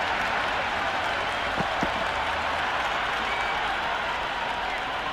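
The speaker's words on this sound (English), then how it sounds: "The crowd are loving every minute of this match." Crowd at a cricket match applauding a boundary four, a steady wash of clapping and cheering that stays loud and even throughout, with no clear voices on top.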